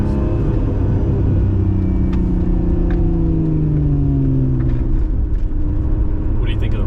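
Lotus Emira petrol engine with a supercharger driving on a rough road, a steady loud rumble with a faint rising whine above it, heard from inside the car.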